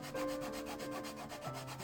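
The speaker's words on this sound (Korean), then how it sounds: "적정의 간격이 넓어 사포로 갈아내는 것이 쉽지는 않습니다" Sandpaper rubbed back and forth over a 3D-printed marble-effect filament part with wide layer lines, a close, steady rasping scrape in quick repeated strokes, alone with no talking.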